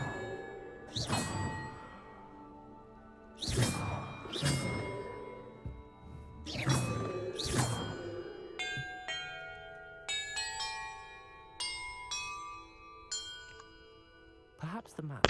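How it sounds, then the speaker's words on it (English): Bells rung in a Hogwarts Legacy puzzle: several loud metallic clangs in pairs, each ringing out, followed by a run of bright chiming tones, with faint voice in the background. "Perhaps the map contains clues about the order I'm supposed to ring the bells in."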